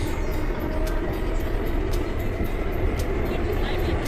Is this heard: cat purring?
no